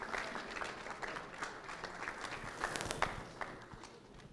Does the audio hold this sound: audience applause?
yes